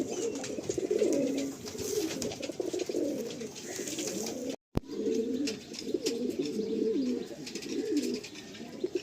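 A pair of Madrasi pigeons coo in soft, rolling bursts, fairly close and moderately quiet, with a brief dropout in the middle before the cooing resumes.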